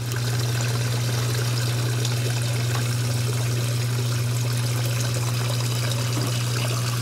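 Water drains steadily after being flushed through with a hose, a constant rushing flow over a low, unbroken hum, with no pauses.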